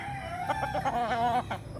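Roosters on a game fowl farm crow in a long harmonic call with wavering pitch, lasting over a second, close and clear against a steady background of other birds.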